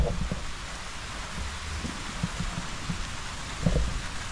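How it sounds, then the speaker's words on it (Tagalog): Heavy rain pours down in a sudden downpour, a loud, steady broadband hiss of drops with a few low thumps, continuous and without talk. "biglang bumuhos na po ang ulan"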